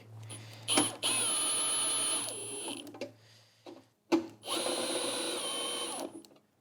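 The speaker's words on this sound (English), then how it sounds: "Have my drill on its lowest setting." A power drill on its lowest setting driving 10mm bolts into an engine's inner tray: two steady whirring runs of about two seconds each, close and clear, separated by short clicks and pauses.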